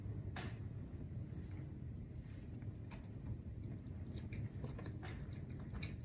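Crunchy pickles brined in mild jalapeno, taken from a jar of Buc-ee's pickles, are bitten and chewed up close. The chewing is quiet and steady, with a few sharp crisp crunches and no talk.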